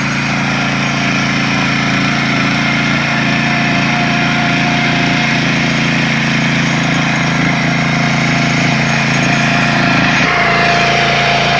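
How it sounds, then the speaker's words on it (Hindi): A small farm tractor built for small fields runs steadily close by. Its engine drones loud and unbroken the whole time, with a slight shift in tone near the end. "ज़बरदस्त ट्रैक्टर है, बहुत अच्छा काम करते हैं।"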